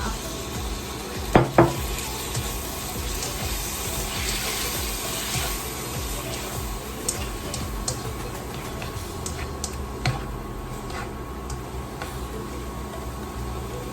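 Canned fish stir-fries in a pan with noodles after water is added, giving a steady close sizzle with occasional clinks of a utensil against the pan, with no talking.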